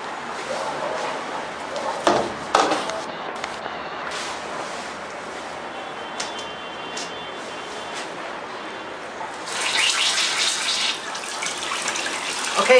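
Water streams steadily through a water-powered LED shower head that changes colour, making a continuous hiss and splash that swells louder near the end, with a few sharp knocks along the way.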